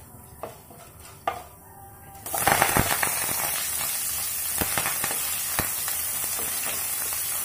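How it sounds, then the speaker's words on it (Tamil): Sliced onions and curry leaves hit hot oil for a Tamil vadai mor kulambu, bursting into a loud, steady sizzle after a few quieter kitchen clatters, with crackling pops continuing close up and no talking. "நீளமா நறுக்கி வச்ச வெங்காயம், அதோட கருவேப்பிலை ஒரு ஆர்க் போட்டுக்கோங்க."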